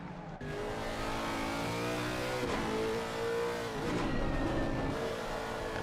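Race cars including a Ferrari lap the Nordschleife in a sim racing game, with a loud engine droning and revving through gear changes close by and tire noise, no talking.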